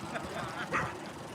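A dog gives a short pained yelp, a brief high cry standing out over a low murmur of background noise.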